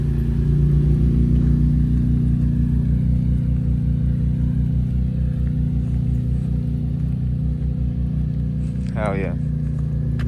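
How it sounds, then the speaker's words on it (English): A truck's engine runs at a steady, loud low rumble as it is moved out of a shop, and a voice briefly calls out near the end. "Just moved the truck out of here"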